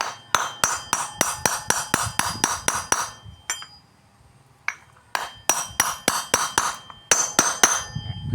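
Rapid, evenly spaced metallic hammer taps ring out close by as a bearing is driven into a Honda Click 125i rear pulley, pausing briefly before a second run of sharp strikes in the same steady rhythm.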